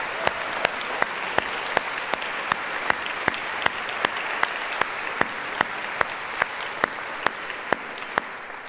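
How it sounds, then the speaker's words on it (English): An audience applauds at a university piano concert, a sustained even roar of many hands filling the hall, with crisp louder claps recurring at a steady pace over the crowd. "please join me in giving a big round of applause to Scott Higgins and Tony Graves"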